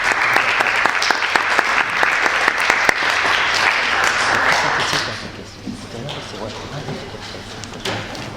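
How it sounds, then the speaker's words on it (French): Seminar audience applauding at the close of a session, dense clapping loud for about five seconds before thinning into scattered claps, with faint voices underneath. "je pense qu'on peut encore applaudir."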